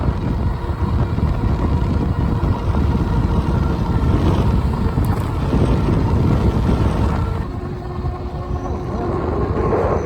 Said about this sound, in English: Boy, the wind's really blowing.